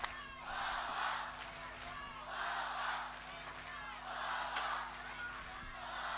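A pro wrestling crowd at a live show in Newcastle, Australia, backs Brother Ray with rhythmic chanting and shouting that swells in repeated waves, while a commentator talks over the din.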